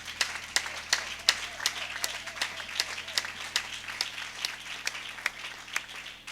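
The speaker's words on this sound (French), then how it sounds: "Est-ce qu'on peut l'applaudir comme il se doit?" Applause from a church congregation, steady overlapping hand claps with a few sharper standout claps, moderately loud and continuing without speech over it.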